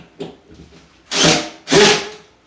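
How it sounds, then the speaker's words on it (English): A power drill drives a screw into drywall during hanging, two loud whirring bursts of about half a second each, close by, after a softer lead-in. "That is the drill."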